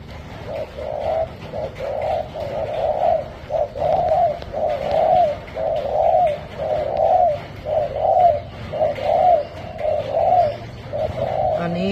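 A spotted dove coos steadily in a soft, repeating rhythm, calls evenly spaced over a low background hum.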